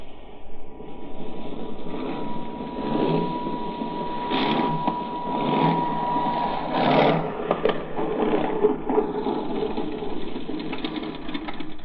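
A propeller airplane landing, staged as an old radio drama effect, sounds as a steady droning engine hum with a rising, swelling rumble midway, loud and continuous without talk over it.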